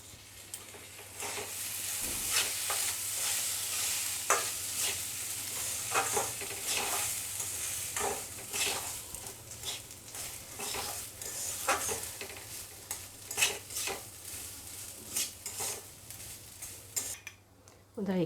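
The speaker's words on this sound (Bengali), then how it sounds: "এখন এই তেল মধ্যে দিয়ে এটাকে কিছুক্ষণ ভেজে নেব।" Rice coated with salt, turmeric and ghee fries in hot oil, giving a steady close sizzle broken by repeated scraping and stirring strokes of a utensil against the pan, with the occasional clink of metal cookware.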